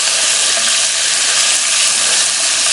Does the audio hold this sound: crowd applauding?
no